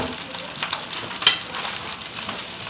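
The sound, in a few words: meat and mixture dumped into frying rice, sizzling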